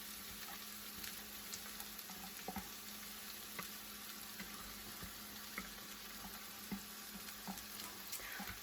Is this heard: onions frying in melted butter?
yes